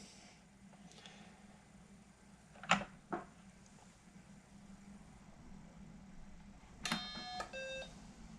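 An Acorn Electron computer starts up with a short single beep amid a low hum and faint clicks, followed by a brief cluster of higher tones.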